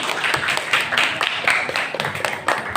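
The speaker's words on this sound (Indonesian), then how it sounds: "Tepuk tangan dulu." Classroom of students at a junior high school clapping for a presenting group, close and fairly loud with distinct uneven hand claps that swell and fade over a few seconds.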